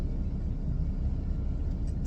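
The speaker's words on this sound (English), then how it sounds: "Somebody driving by" A car passes by outside as a low, steady road rumble, muffled and moderately loud, with no voices over it.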